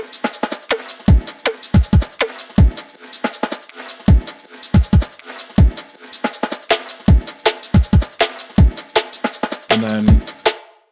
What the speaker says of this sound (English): And the Serum thing on its own sounds like this.